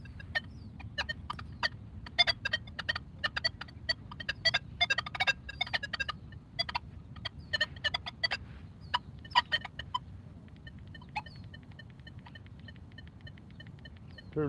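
A metal detector chirping in quick irregular bursts and clusters of short tones during an outdoor hunt, fairly close, then settling into a steadier faint repeating tone at the end.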